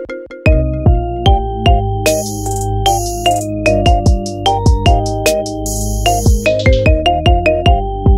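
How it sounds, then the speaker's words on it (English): Marimba remix iPhone ringtone of a song, a loud, bright melody of plucked, bell-like notes in a quick bouncing rhythm with chiming high accents, playing alone without any voices. "Get this hot ringtone for your phone now."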